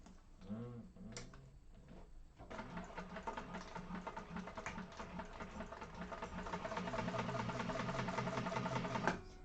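Sewing machine stitching a quarter-inch seam on a zipper bag during a sewing class: after a brief quiet start, a steady, close mechanical whir with rapid ticking runs continuously and grows slightly louder to the end.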